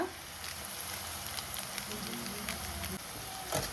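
Green chili paste and Maggi masala fry in a pan, giving a steady, close sizzle and crackle with a few sharper pops. The sizzling continues throughout and no one speaks.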